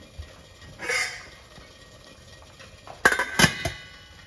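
A greased metal plate of Gujarati bottle gourd, fenugreek and spinach muthiya is set into a steamer: a soft clink early on, then a cluster of sharp metallic clatters and knocks near the end, close and otherwise quiet.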